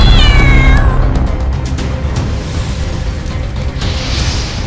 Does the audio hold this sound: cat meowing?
yes